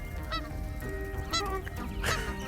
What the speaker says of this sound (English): Oh God, it's a flock of geese.